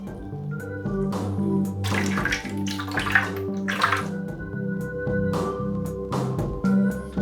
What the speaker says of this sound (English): Let's water it and put it on the bench.